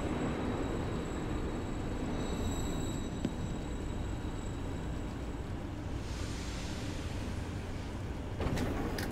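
Subway train rumbling steadily along in the video game Ghostwire: Tokyo, a continuous low roar with faint high whine, a brief click near the end, no talk.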